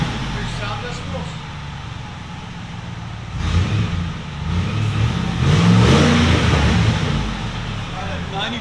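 A 2007 Saleen S331 SC pickup with a supercharged 5.4L V8 and Black Widow Widow Maker exhaust revs in short bursts, swelling to a louder rise midway, close by with a steady background rumble between pulls.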